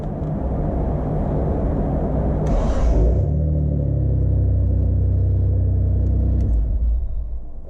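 A Mitsubishi 3000GT engine cranks with a short high whine, then catches and settles into a steady, loud, close idle that runs on to the end without any talking.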